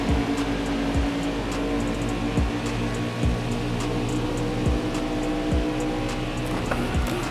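A race car drives alongside in an auto racing video game, a steady engine drone with faint regular ticking that continues evenly throughout.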